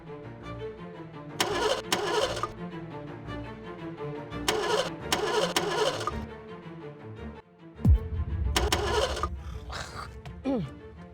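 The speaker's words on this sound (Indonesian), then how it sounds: "Li, coba lu starter dah." A car engine cranks repeatedly without catching, several bursts of whirring starter grinding separated by pauses, fairly close and moderate in level, followed by a brief rising sound near the end.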